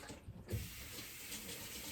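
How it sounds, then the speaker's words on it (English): Kitchen tap running steadily into a sink while hands are rinsed, a continuous close, moderately quiet splashing flow with a brief surge midway and no talking. "Wash my hands off a bit."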